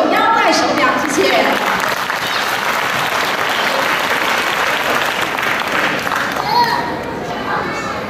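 An audience at an evening school music concert claps warmly to welcome a children's Yo-kai Watch performance, a steady burst of applause with some crowd chatter and children's voices mixed in.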